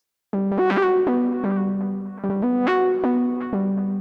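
Bright analog-style synth plucks made in Serum play a short melodic phrase, each note with a sharp attack and quick decay, clean and upfront with nothing else.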